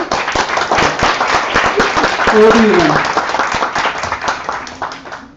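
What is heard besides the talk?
audience applause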